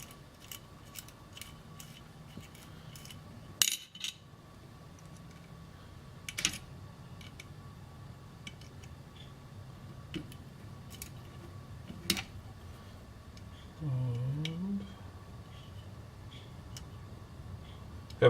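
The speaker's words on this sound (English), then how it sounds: "I'm having some difficulty getting these Allen wrenches into the bolts, or into the screws." Allen wrenches worked into screws while assembling a small metal part produce sparse sharp clicks and taps over quiet background, with a brief scraping rattle near the end.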